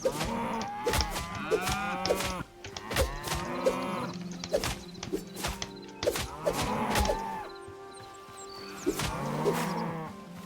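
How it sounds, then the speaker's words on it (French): Cattle in the video game Hytale moo repeatedly, several drawn-out calls overlapping one another, loud and close, with no talking over them. "Je sais plus si j'ai vu des vaches."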